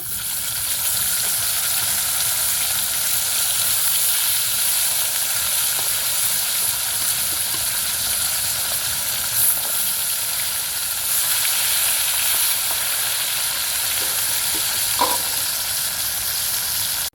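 Pieces of bata fish frying in hot oil until reddish, a steady, loud, close sizzle and hiss that runs unbroken throughout with no talking.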